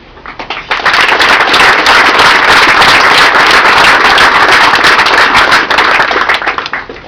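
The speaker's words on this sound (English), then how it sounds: "So I give a round of applause to the 21 that stand here before you." Loud, dense applause from an assembled crowd at a military promotion ceremony, rising quickly into sustained rapid clapping that holds for several seconds before tapering.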